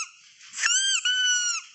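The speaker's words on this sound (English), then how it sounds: "This is the sound of squeaked." A single high-pitched squeak, drawn out and wavering, plays faintly on its own for under two seconds.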